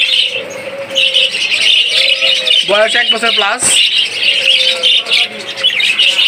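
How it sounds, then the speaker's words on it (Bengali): A pair of caged budgerigars chirp in a bright, continuous twittering close by, with a few sharper squawks, while someone talks over them. "এখানে রয়েছে এক জোড়া বাজিগার পাখি"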